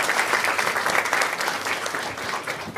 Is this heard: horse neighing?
no